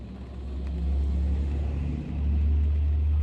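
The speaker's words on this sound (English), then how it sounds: "there's a truck here." A truck passes in the rain as a steady, loud low rumble that swells and stays close for a few seconds, with no voices over it.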